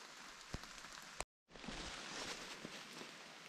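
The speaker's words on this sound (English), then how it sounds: "Gonna be a lot of fun in the rain." Close, steady rainfall patters on a surface, cutting out briefly for a moment before resuming just as heavily.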